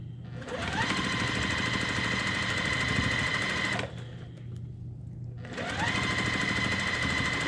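A sewing machine stitches a quilt block seam in two steady whirring bursts with a short pause between them, running close and loud with its rapid mechanical hum.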